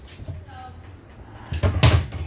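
Kitchen cabinets and drawers in a Sunlite 18TB travel trailer open and close, giving a few light knocks and a sharper closing thud near the end, with soft background noise.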